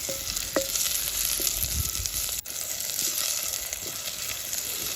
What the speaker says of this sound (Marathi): दोन बारीक चिरलेले कांदे आहेत ते टाकून घ्यायचे आहेत आणि थोडं लालसर होईपर्यंत परतून द्यायचं आहे